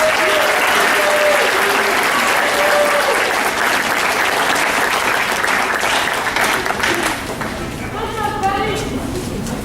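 A school audience at a junior high spring concert and awards night gives sustained, loud applause for seventh graders, with crowd chatter mixed in. The clapping thins toward the end as a voice starts speaking.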